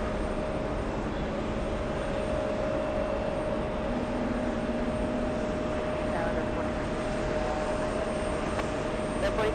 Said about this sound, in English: Little CRJ heading to Portland,